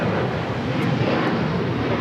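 Alaska Airlines 737-900ER taking off at LAX, a brief, dense, steady jet engine roar, close and loud, with no voices.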